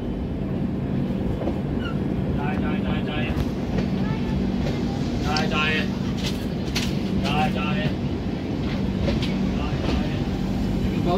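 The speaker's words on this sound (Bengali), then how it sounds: "নির্ধারিত সময় 2 মিনিট হল্ট করার পর ট্রেন ছেড়ে দিল অযোধ্যা ধাম জংশন থেকে" Ganga Sutlej Express train pulling away from Ayodhya Dham Junction after a two-minute halt, a steady low rumble and rolling clatter throughout with faint squeals, under continuous talk nearby.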